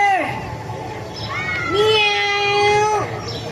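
A cat meows with drawn-out, wavering cries, close and fairly loud, with one long rising-and-falling call in the middle.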